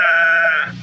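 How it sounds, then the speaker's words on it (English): A single loud, close goat bleat in a vintage radio drama, a sustained nasal wavering cry that fades out at the end. "It was the goat out there."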